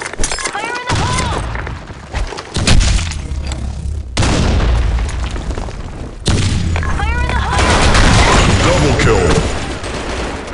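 A round of the online shooter game BlackShot erupts with a grenade blast, dense bursts of gunfire and heavy booms, loud and continuous, with in-game voice callouts over the chaos.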